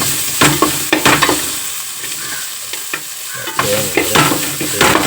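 Onion, tomato and coconut frying in a pan, stirred with repeated scraping strokes over a steady sizzle, close and loud with no talk.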